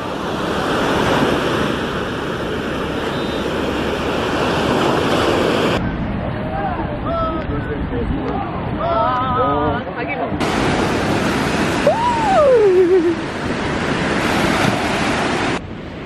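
Sea surf washing onto a wet sandy beach in Busan on a rainy day, a steady broadband wash with wind noise, loud at the start and end and quieter in between, with faint voices and a few bird-like calls in the middle.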